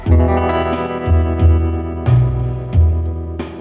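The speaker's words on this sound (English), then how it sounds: "let's design our own industrial bass sound" Heavy, gritty 90s-style industrial synth bass pulsing in short repeated notes, distorted and buzzing with a washy effects tail, loud and up front.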